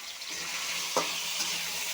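Cucumber and potato pieces fry in a pan with a steady, moderately quiet sizzle and a light stir near the middle.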